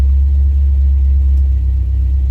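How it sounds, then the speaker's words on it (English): A cold fuel-injected Volvo 1800 ES engine idles right after starting, giving a loud, steady low rumble that holds evenly throughout with no voices. "Fuel injected, so no need to use any choke or gas. Starts right away."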